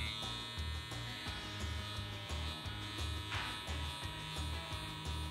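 Electric hair clippers buzz continuously at close range while trimming a taper fade on a man's haircut, a steady motor drone with small shifts in tone as the blade works through the hair.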